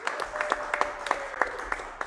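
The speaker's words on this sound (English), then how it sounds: "Give her a round of applause." Audience applause for a featured visual artist at a club show: a steady wash of clapping hands with sharp individual claps popping out, moderately loud and continuous for about two seconds, with a faint tone running beneath.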